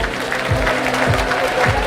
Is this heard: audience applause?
yes